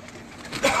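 Pigeons in a newly built flying pigeon loft at night give soft cooing and fluttering patter that grows louder toward the end of the short stretch, with no voices over it.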